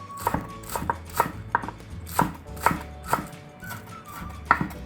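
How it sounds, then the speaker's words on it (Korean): Knife chopping three green onions on a cutting board, about a dozen crisp, evenly spaced thuds and clicks in a steady rhythm, close and moderately loud with no talking. "이 쪽파는 그냥 쫑쫑 썰어 주셔요"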